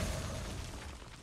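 In the card game Hearthstone, a cannon blast lands as a dense, loud burst with a crackling, shattering texture that stays steady through the short moment before easing slightly, with no voices.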